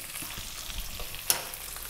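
Onion frying in a pan over above-medium heat for a restaurant-style lamb curry, a steady close sizzle with one sharp clink of a utensil partway through, no voices.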